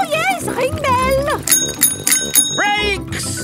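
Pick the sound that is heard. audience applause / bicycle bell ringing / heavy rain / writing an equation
bicycle bell ringing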